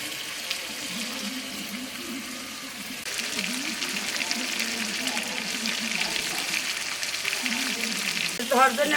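Deshi pangas fish fries in a pan with a steady, close oily sizzle and hiss, joined near the end by a brief metallic clatter.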